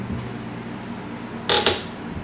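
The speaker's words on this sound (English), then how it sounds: "Probably need to oil the hinge just a little bit." A dry door hinge that needs oiling in a laundry room gives one short, sharp creak partway through, standing out against quiet room tone.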